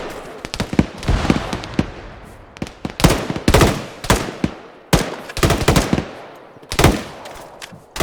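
Gunfire in ArmA 3 during a military simulation firefight: rapid cracks and bursts of rifle shots, some close and loud, others fainter, in irregular clusters with echoing tails throughout.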